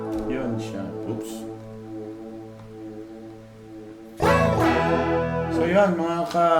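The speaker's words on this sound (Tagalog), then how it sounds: "yun ang tunog ng ating flanger." Electric guitar through a BOSS BF-3 flanger pedal, sustained notes with a sweeping, swirling tone, then a louder burst of strummed chords near the end; no talk over it.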